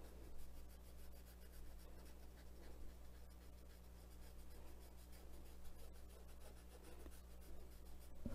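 Pastel pencil shading on paper, a soft continuous scratchy rubbing under a steady low hum, with no voices.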